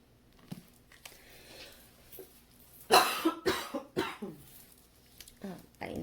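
Several harsh coughs after inhaling potting soil while repotting hoyas, one sharp burst followed by a run of rough, throaty hacks close to the mic, with quieter rustling and breathing before them.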